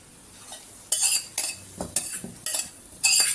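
Grated carrot is stirred into dosa batter in a bowl, heard as a series of close, wet mixing scrapes and clinks from a spoon in an uneven rhythm, with no one talking.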